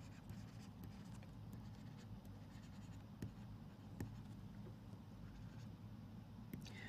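A pen scratches across paper as notes are handwritten for a Bengali grammar lesson, with faint, continuous strokes and occasional sharper ticks over a steady low hum, and no talking.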